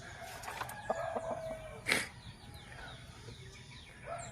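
DeKalb chicken, a large bird of about two kilos, clucking and calling faintly on a farm, with one brief louder squawk midway.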